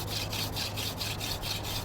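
Friction fire drilling with a bear grass spindle on a California fan palm rib hearthboard: rapid back-and-forth rubbing strokes, about seven in under two seconds, close and even, with no talk.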